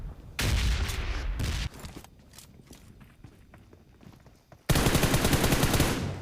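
PUBG gunfire plays as two loud bursts of rapid automatic shots separated by quieter footsteps and movement, all close and without talk.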